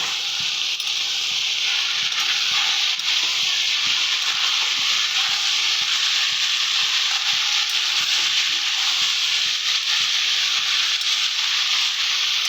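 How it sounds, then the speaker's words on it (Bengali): Mixed vegetables sautéing with spices in a hot pan give a loud, continuous sizzle and hiss, with faint stirring scrapes underneath and no voices. "সমস্ত কিছু দিয়ে এবার এটাকে আমরা আবার ভালো করে কষিয়ে নেব"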